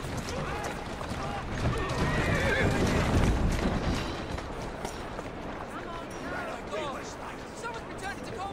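In Assassin's Creed Syndicate, a horse whinnies loudly over steady clip-clopping hooves and running movement, with game ambience and faint voices underneath.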